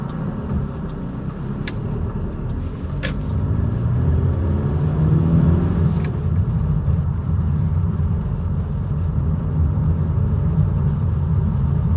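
A car pulls away during a driving test at Thornbury, its engine rumble building and swelling into a steady, close drone of driving from inside the cabin, with a few faint clicks above.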